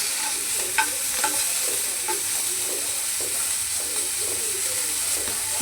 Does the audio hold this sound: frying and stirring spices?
yes